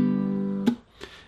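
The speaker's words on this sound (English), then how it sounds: "we're going to use the down-up clap strumming pattern." Down-up clap strumming on a baritone ukulele: a sustained ringing strum fades into a sharp percussive clap, followed by another softer hit, close and clear with no talking.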